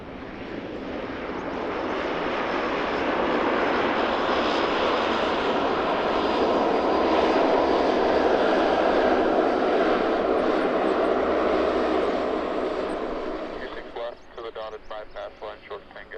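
An airliner on final approach to runway 26 right roars past at an airport: a loud, sustained engine rumble that builds, holds for about twelve seconds, then fades as radio chatter comes through near the end.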